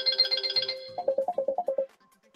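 A mobile phone rings with an incoming call, playing a bright, rapid electronic ringtone phrase that steps down into a lower pulsing run of short notes, then falls silent.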